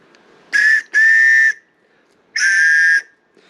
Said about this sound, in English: It looks like just a whistle.